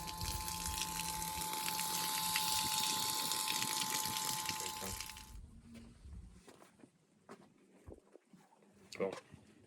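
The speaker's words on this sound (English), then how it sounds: "it's switched with a 12-volt pump that drops down inside the jerry can and it's hooked up to a 12-volt outlet" A 12-volt pump dropped inside a jerry can and run off a trailer battery system produces a steady water gush and rush for about five seconds, then stops, leaving quieter knocks and handling noises with some talk nearby.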